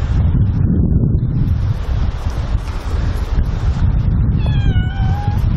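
Cat meowing outdoors near old stone buildings around a castle and cathedral, a couple of short rising meows toward the end, faint against steady loud wind buffeting the microphone.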